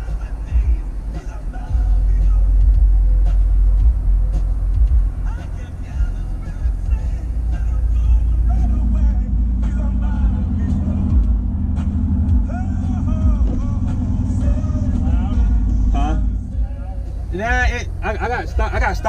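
Corvette C7 Grand Sport with stock exhaust, a steady low engine rumble from inside the car while driving in sport mode, moderately loud beneath someone talking throughout.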